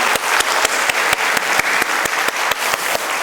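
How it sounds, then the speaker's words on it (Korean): A church congregation applauds together in a sustained, dense wash of clapping, with sharper individual claps punctuating it at a fairly even rhythm, close and full, with no talking over it. "우리 박수로 한번 영광 축복 올려드리겠습니다"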